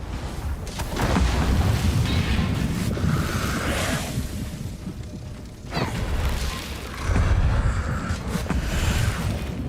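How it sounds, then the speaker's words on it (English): Big explosions in the video game Eternal Strands boom and rumble loudly in repeated waves, with dense crackling debris and mechanical clatter. "My goodness. Big explosions."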